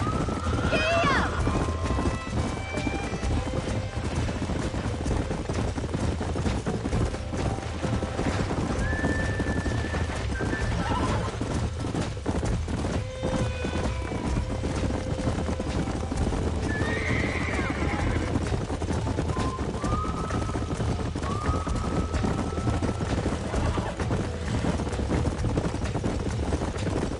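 A horse in the western game Red Dead Redemption gallops steadily with continuous hoofbeats and whinnies several times, loud and close throughout.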